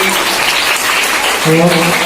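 Crowd applause at a primary school celebration of girls' education and school enrollment, a steady close wash of clapping lasting throughout, with a voice speaking over it partway through.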